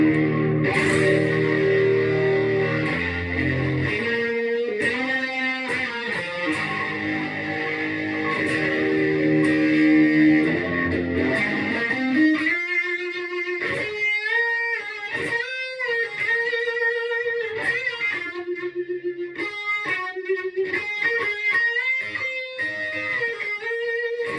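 Electric guitar through an MXR Distortion Plus pedal stacked with a Distortion 3, first thick crunchy chords, then sharper staccato riffs with a bright saturated tone, played alone and steady in volume.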